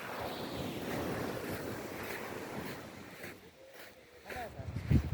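Sea waves wash steadily onto the beach at Laiya, Batangas, with wind buffeting the microphone and a sharper thump near the end.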